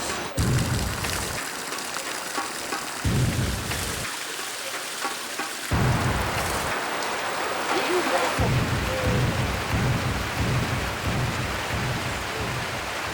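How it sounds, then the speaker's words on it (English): Heavy rain pounds steadily on a roadside rain shelter in northern Laos, close and loud, with deep rolls of thunder rumbling underneath at intervals. "It's raining really hard, so we stopped here at the border."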